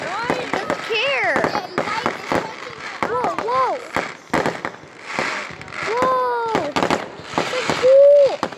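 Fireworks bang and crackle in bursts at a backyard display, sharp pops scattered throughout while excited children's voices shout and squeal loudly over them.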